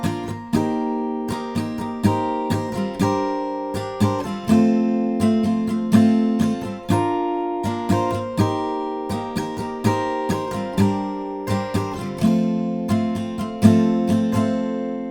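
Strummed acoustic guitar plays the main chord progression of a song, two chords to each strumming pattern, in a steady repeating rhythm with crisp strokes, close and clear with no voices.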